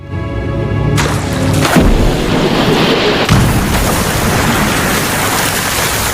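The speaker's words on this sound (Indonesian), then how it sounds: "si TJ melakukan tembakan-tembakan dan melemparkan granat" Several loud grenade-like blasts boom over a dense, sustained rumbling roar, with no one speaking.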